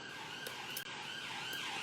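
An emergency siren wails faintly in the distance, its pitch sweeping up and down over steady background noise, with a brief dip partway through.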